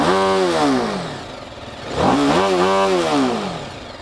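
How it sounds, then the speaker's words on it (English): A BMW G 310 RR's reverse-inclined single-cylinder engine revs twice, pitch sweeping up and falling back each time with a loud, buzzy, treble-heavy note and no voices. "the reverse incline engine has a very trebly note all over the place"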